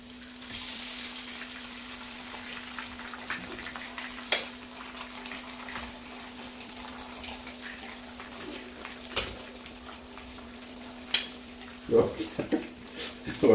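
Egg fries in a pan for egg rice, a low steady sizzle under soft scraping and stirring, with sharper clinks of a utensil against the pan toward the end, close and fairly quiet.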